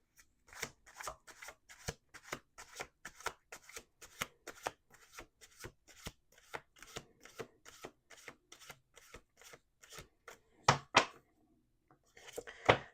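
Tarot cards are shuffled by hand at close range, a fast rhythmic run of crisp riffling snaps and slaps, with a brief pause and then a few final louder shuffles.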